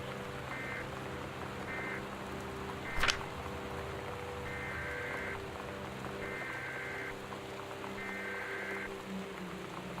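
Torrential storm rain from Gone Home pours as a steady, dense hiss, with repeated short beeping tones and a single sharp crack near the middle, distant and even.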